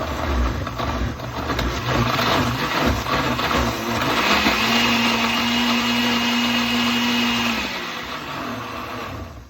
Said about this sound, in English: So I'll put the paper stock in, I'll just cover the blender, and I'll give it a little stir.